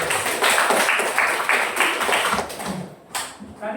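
A school class clapping hands in a classroom, a fairly loud burst of rapid, uneven applause that thins out and tapers near the end, with a few stray claps.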